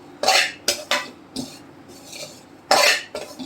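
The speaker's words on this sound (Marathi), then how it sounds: "बघू शकता खारीक भाजताना पण आपल्याला असं सतत हलवायचं आहे" Dry dates (kharik) roasting in ghee are stirred in a pan over a medium flame, with several distinct scraping, clinking strokes of a spoon against metal, irregularly spaced and close.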